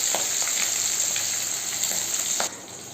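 Singi fish fry in oil in a wok with a steady, bright sizzle and a few louder pops. The sound drops off sharply near the end, with no talking.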